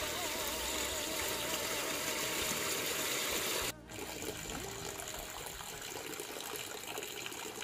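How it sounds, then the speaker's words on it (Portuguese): Water pours steadily down into a fish pond, a continuous rushing flow with a low engine-like hum beneath it, briefly cut off partway through before resuming slightly softer. "Deixa a água descer aqui, que vai ser só o ouro, vai entrar uma água nova hoje."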